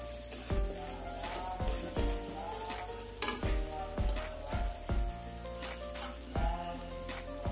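Squid stir-fried with ground chili in a pan: steady loud sizzling runs throughout, with a regular series of scraping stir strokes about every three-quarters of a second, close up and with no talk.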